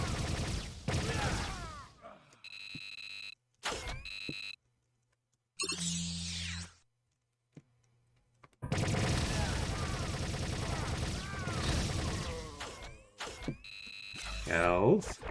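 Weapon fire against Klingons in the game Star Trek: Voyager - Elite Force, bursts of rapid shots broken by short pauses and quieter game sounds, loud and close.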